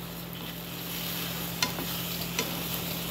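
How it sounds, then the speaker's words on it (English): Eggs sizzle softly in a hot pan while a spatula scrapes and stirs them, a steady frying hiss with a few faint scraping taps, close by and without speech. "you gotta take your spatula, whatever, and you gotta scramble it"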